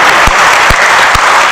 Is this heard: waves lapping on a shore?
no